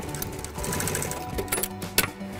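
A sewing machine stitches canvas for a boat cover that fits over a trolling motor. It runs in a steady close mechanical whir, with a few sharper clatters toward the end and no voices.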